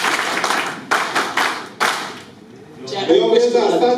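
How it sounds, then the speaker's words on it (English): Audience members at an International Day of Cooperatives symposium in Lira clap in a local rhythmic style, sharp loud bursts of claps spaced about a second apart, followed by a lull and then voices talking. "Can you clap in that language of ours?"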